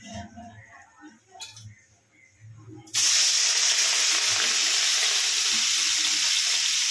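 Prawns hit hot oil about halfway through, setting off a sudden loud, steady hiss of frying that holds to the end. Before that come quieter kitchen clinks and shuffling.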